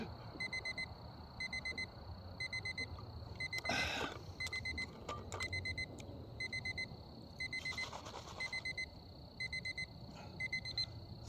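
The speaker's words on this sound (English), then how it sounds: "See that beeping?" A faint electronic timer beeps in short repeated bursts at a steady rhythm, with a few soft clatters in between.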